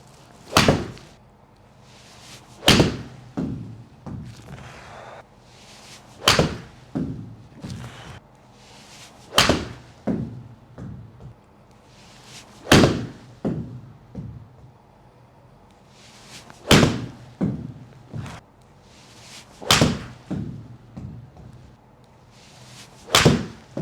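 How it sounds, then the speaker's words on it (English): Golf balls, Bridgestone Tour B RX and RXS, struck with pitching wedges give sharp, crisp clicks roughly every three seconds, each followed by softer thuds and rustles between shots. "Now let's move on to hitting some pitching wedges."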